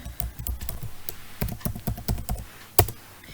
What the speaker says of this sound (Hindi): सबसे पहले हमें पासवर्ड एंटर करना है।